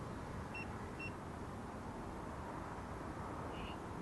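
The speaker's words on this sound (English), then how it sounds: "when you ask the question, it keeps beeping twice" Two quick, high electronic beeps from a meter in close succession, then a fainter third tone later, over a low steady background hum, inside a church.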